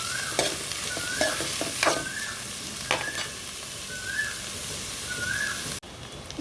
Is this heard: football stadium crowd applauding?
no